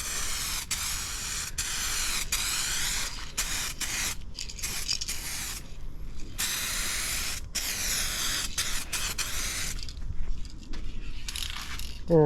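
Bursts of clear coat sprayed onto restored car headlight lenses, a steady hissing mist repeated in several passes with short pauses between them, close by and without talk.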